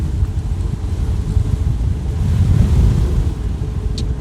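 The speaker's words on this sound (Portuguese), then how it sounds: "Esse vento pode ser um sinal para me desmentir" Steady wind gusts buffet the microphone by the open sea, a rough continuous rumble with surf-like swells and no voices.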